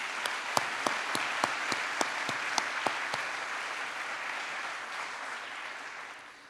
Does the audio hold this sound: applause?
yes